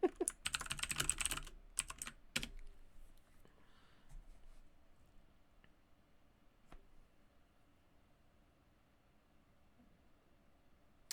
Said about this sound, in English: I was finishing typing those.